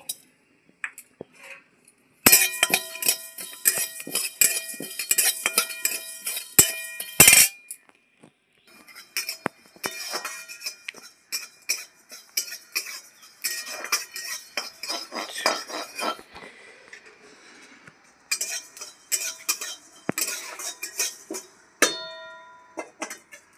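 Whole coriander and cumin seeds dry-roasting in a pan, with repeated bright metallic scraping and clinking of a spoon against the pan in bursts, close and fairly loud, no talking.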